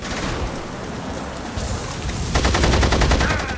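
Gatling gun fire in The Saboteur, a rapid, loud stream of shots joining a rumbling battle din partway through and hammering steadily to the end, with no talking.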